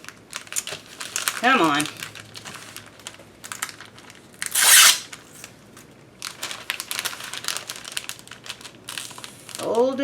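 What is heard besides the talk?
folding packaging material for a parcel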